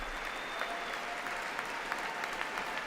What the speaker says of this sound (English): Why are you applauding yourselves